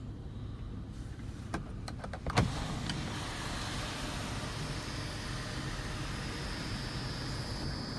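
Sunroof on a 2011 VW Routan SEL minivan motoring open, a faint steady electric whir running the whole time after a few soft clicks and a small thump near the start.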